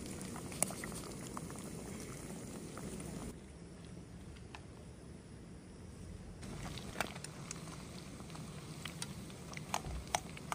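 Food stewing in a pot, a quiet steady bubbling boil with faint pops and ticks, close and soft, briefly dipping quieter midway.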